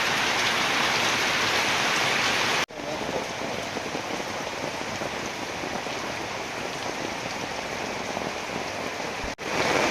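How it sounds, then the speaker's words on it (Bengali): Heavy rain pours steadily and loudly in a rural cooking setting, a dense continuous hiss of drops drumming on surfaces with no voices, broken only by two brief dropouts. "দেখেন বৃষ্টির অবস্থা"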